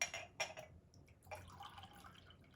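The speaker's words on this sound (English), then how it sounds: "So I'm going to refill up my 1 cup beaker." Water is poured into a 1 cup beaker, with a couple of short splashes followed by a softer trickling fill, close and fairly quiet.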